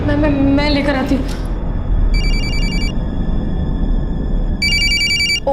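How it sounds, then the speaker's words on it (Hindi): An electronic telephone ringer trills in two bursts of rapid tones, fairly loud, over a continuous low room noise, with someone speaking briefly before the first ring. "पराग का फोन है।"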